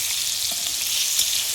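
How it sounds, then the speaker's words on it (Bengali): Cut potatoes for a cauliflower curry fry in a pan, giving a loud, dense sizzle that holds steady over a brief moment while they are stirred, with no talking. "এগুলো একটু ভেজে নেবো।"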